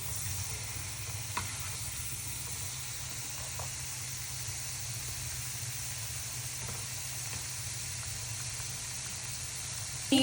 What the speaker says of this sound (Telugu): గోల్డెన్ బ్రౌన్ వచ్చే వరకు మనం ఇంకా ఫ్రై చేసుకుంటుండాలి.